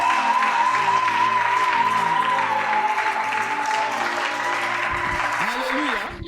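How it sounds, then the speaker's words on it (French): A church congregation applauds and cheers in a loud, dense, continuous wash of clapping and voices that holds steady for several seconds, with a brief voice rising near the end. "Oh non, vos acclamations ne plaisent pas à Dieu."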